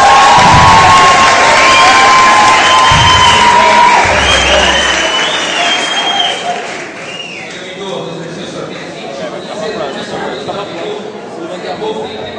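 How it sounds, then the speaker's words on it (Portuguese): A Brazilian audience applauds and cheers loudly, with whoops and children shouting over the clapping, then the noise settles into lively crowd chatter and scattered claps. "uma salva de palmas para o Bidu."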